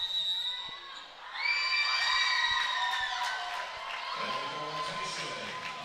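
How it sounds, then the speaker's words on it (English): A crowd at a high school volleyball senior night in a gym rises into loud rhythmic chanting and shouting, sustained for several seconds with scattered cheers underneath. "we're hearing some chants from the crowd right there"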